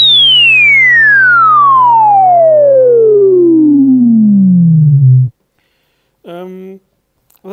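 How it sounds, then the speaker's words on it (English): A pure, loud sine tone from a self-resonating synthesizer filter in SynthMaster One sweeps steadily downward in pitch over about five seconds over a held low drone, then cuts off, followed by a brief voice. "So right now the filter is at self-resonance."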